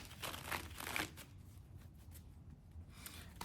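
Tarot cards being shuffled, with a few quick papery riffles and flutters near at hand, strongest in the first second and then thinning to soft, faint rustling and handling.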